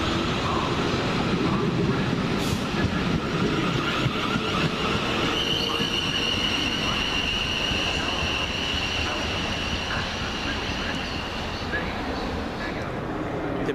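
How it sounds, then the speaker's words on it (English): A South Western Railway passenger train passing, a loud steady rumble of wheels and motors with a rising whine partway through, close by and continuous, with a voice talking at points. "And next out, the 11:35 South West train service from London Waterloo to Weybridge."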